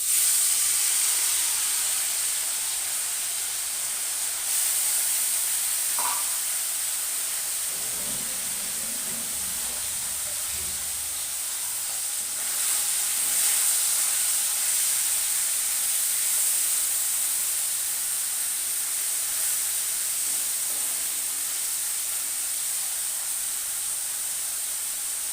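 Fish fries in hot white oil, giving a steady, even hiss and sizzle that carries on throughout with only slight swells in level and no talking.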